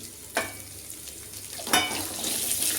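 Ginger and garlic frying in a pan, a soft steady sizzle with two sharp splashes as ingredients hit the hot oil, heard close with no talking.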